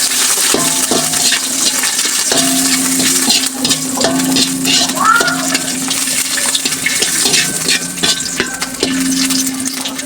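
Garlic and ginger frying in a pan for a spiny gourd mash, a steady loud sizzle with scraping and stirring clatter throughout, no voices.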